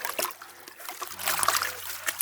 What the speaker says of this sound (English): Rinsing them out in that orange bucket.